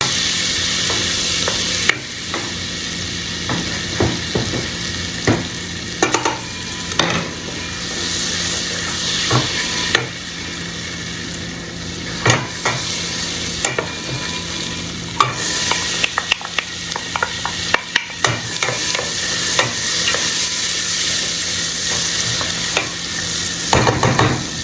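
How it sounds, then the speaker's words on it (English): Vegetables sauté in olive oil and butter in a sauce pot, a steady close sizzle and hiss broken by repeated scraping stirs throughout. "let's go ahead and saute our vegetables"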